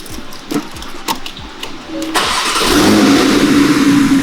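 A 2016 Porsche GT3 RS engine with sport exhaust fires up with a series of sharp ticks, then swells into a loud, raspy rev that holds at high pitch, close and dominant.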